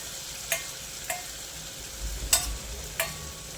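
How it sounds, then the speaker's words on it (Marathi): Cooked pigeon peas fry in a masala base in a pan, a quiet steady sizzle broken by several sharp scraping strokes of a spoon stirring the mixture. "आता तूर सुद्धा थोडंसं मसाल्यावर फ्राय करायचे आहे"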